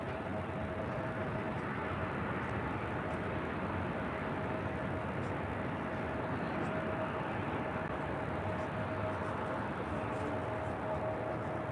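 Airbus A380 airliner coming in to land at LAX, a continuous broad roar of jet engines heard steadily at a distance with no clear change in loudness.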